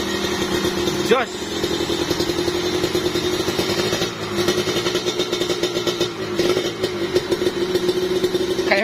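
Kawasaki Ninja two-stroke motorcycle engine fitted with an oversize block, idling close by with a steady, dense burble and light mechanical clatter, while someone talks over it.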